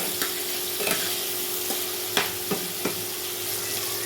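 Capsicum frying in a pan with a little salt for vegetarian chilli paneer, a steady close hiss of oil with a few sharp spoon clicks and scrapes against the pan.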